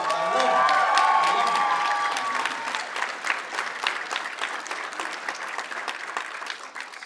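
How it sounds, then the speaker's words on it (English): Convention audience at a horror con's Walking Dead panel in South Texas erupts in applause and cheering; loud crowd clapping with a few whoops and shouts early on, settling into sustained, slightly fading clapping. "So give yourselves a round of applause."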